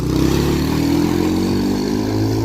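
A 100cc Rusi motorcycle engine fitted to a converted e-bike tricycle runs steadily close by, giving a loud continuous buzzing drone.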